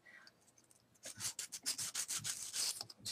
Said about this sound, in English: now my copper is dry, and I'm going to go ahead and sand it